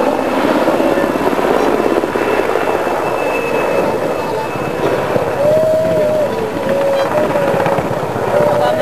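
A military attack helicopter at an air show flies toward the crowd, its steady thudding roar loud and continuous, with faint voices and a rising whine underneath.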